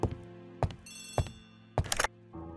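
An old-fashioned telephone bell rings in bursts in the Agatha Christie ABC Murders video game, with four loud, close rings spaced about half a second apart and a soft synth tone underneath.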